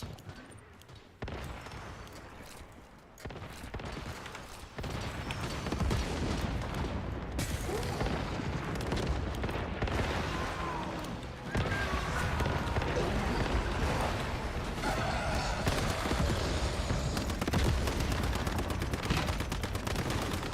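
Gunfire and grenade blasts in the video game Once Human, a dense continuous barrage of shots and booms that grows louder after the opening seconds, with a voice talking intermittently beneath.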